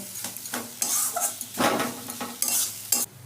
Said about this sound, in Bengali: এবার ভালো করে পুরটা ভালো করে ভেজে তৈরি করে নেব